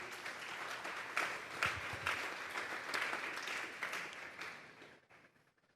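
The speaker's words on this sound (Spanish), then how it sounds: "Denle un fuerte aplauso pues al Señor" A church congregation at a Sunday service bursts into sustained applause, a dense wash of clapping with a few sharper peaks that fades out toward the end.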